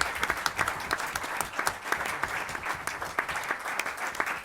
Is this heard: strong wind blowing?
no